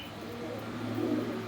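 A young pigeon coos softly beneath the red bango, a faint low murmuring call that swells briefly near the end over a quiet background hum.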